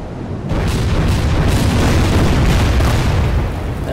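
Loud, dense gunfire and explosions from the Order of Battle: Morning Sun strategy game's Battle of Shanghai, a continuous rumbling barrage of booms that swells after the first half second and holds steady.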